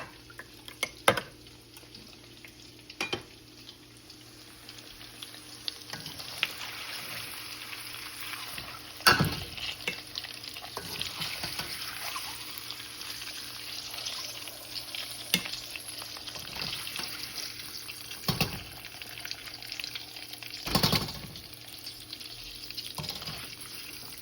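Eggs sizzle steadily in a hot pan for a stew made with coconut milk powder, with repeated scraping and stirring clatters that come through clearly.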